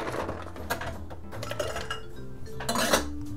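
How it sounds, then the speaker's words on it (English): Large ice cubes clink and rattle against glass as they are added to a bacon-infused bourbon Old Fashioned and stirred, with close, irregular clinks and scraping throughout. "And add ice and stir."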